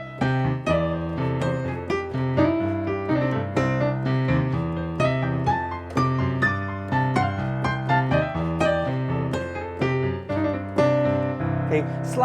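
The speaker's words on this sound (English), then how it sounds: "It is the slide technique, and it sounds like this." Piano playing a cheerful chord progression with bluesy slide embellishments, steady rhythmic chords and quick grace-note slides repeating throughout, close and fairly loud with no talking.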